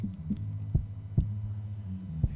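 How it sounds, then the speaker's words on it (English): Isolated kick drum from a 1971 track: soft, muffled low thumps spaced irregularly over a faint bass hum. "Let's bring that kick in."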